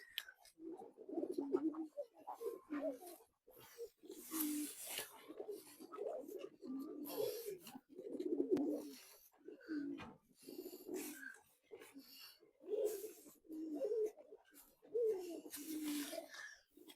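Soft, repeated pigeon coos rise and fall throughout, close by, with a few quiet rustles between the calls.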